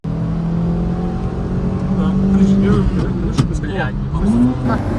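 A race car engine revs hard at a motor race, its tone climbing and holding near the rev limiter before dropping and rising again, loud and close, with people talking over it.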